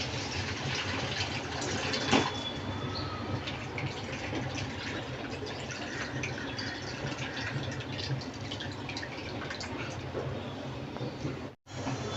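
Water pours and splashes steadily as rinsed poha is drained in a home kitchen, a continuous close rushing sound that cuts off briefly near the end.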